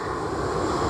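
A Virgin aircraft at Sydney Airport produces a steady, loud, broadband engine roar that holds unbroken for the whole second, with no voices over it.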